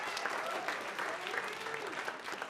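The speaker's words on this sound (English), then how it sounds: "I notice the women are applauding." Comedy club audience applauding during a stand-up set, a steady wash of clapping over a couple of seconds with faint voices mixed in.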